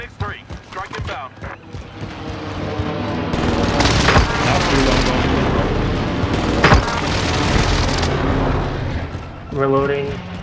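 A video-game airstrike rolls in as a long, loud rumbling blast with sharp cracks and gunfire inside it, while players talk before and after.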